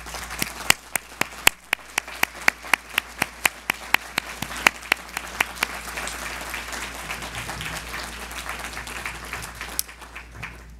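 Dinner audience at the Udall Dinner applauds committee members as they stand, a few loud, distinct nearby claps rising over a softer spread of room applause that gradually thins out.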